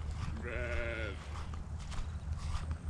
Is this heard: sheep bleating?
yes